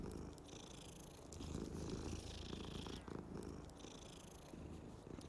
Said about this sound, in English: What's this cat?